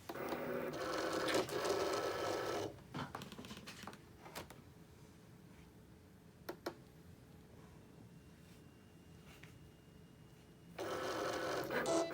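A Cricut machine cuts vinyl in fast mode for a glass vase project, its motor whirring and buzzing steadily at the start and again at the end, with a quieter stretch of faint ticks and clicks between.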